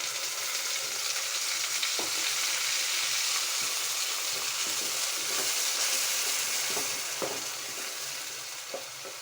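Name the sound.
tomato paste frying in oil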